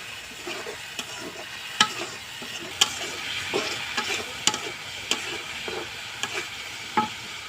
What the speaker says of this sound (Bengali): এবার ধুয়ে রাখা সুতিগুলো দিয়ে দেবো সাথে ভালো করে কষে নেব